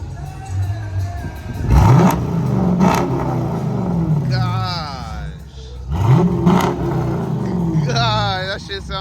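Car engine with freshly installed exhaust, a Hemi, revved hard in two bursts, loud and close, with rising and falling roars and people talking excitedly between and over the revs.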